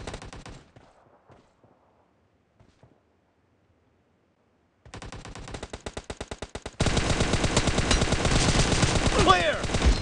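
Automatic gunfire in the video game PUBG, brief shots early on, then after a quiet stretch a sustained rapid burst that grows into loud, dense continuous fire, with faint game voices.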